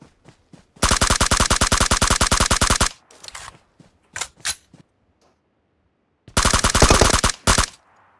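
Automatic fire from a 100-round gun in a mobile shooter game: two long, rapid machine-gun bursts bracket a few short sporadic shots, loud and close with quiet gaps between.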